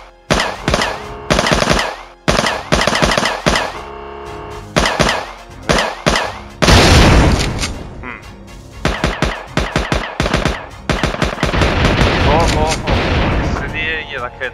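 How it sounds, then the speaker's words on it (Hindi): Rapid bursts of machine gun fire in the video game Sasta James Bond: Operation Pinkeye crackle in short, repeated volleys, loud and close, broken by a heavy explosion midway, with game-style sound effects throughout. "मशीन गन की आवाज थोड़ी ज्यादा लाउड भी होनी चाहिए।"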